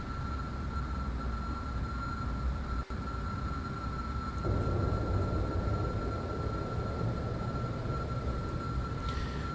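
Rocket engines at full throttle in Kerbal Space Program roar as a steady, dense rumble, swelling louder about halfway through and holding on with no voices.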